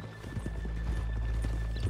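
Horse hooves clip-clop in Red Dead Redemption 2 with a steady, rhythmic clatter close by over a low rumbling background.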